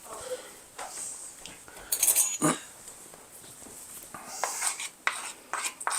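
A spoon is grabbed from among other cutlery, giving several close, bright metallic clinks and rattles in a quiet kitchen, with no talking.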